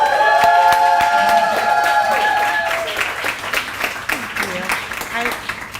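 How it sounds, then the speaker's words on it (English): Audience applause and cheering at a startup prize award ceremony on stage, a broad wash of clapping and crowd noise that stays loud at first, then thins out, mixed with a brief tonal cue in the opening seconds. "please give her a warm hoot and applause for Melissa Brandon."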